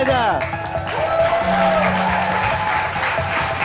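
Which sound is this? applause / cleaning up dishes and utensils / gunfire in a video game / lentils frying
applause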